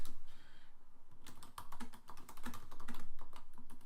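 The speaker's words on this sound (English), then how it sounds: "if I want to type a little note about this" Typing on a computer keyboard to enter a short note in a Google Keep app, a steady run of close, crisp key clicks over faint background hiss, with no talking.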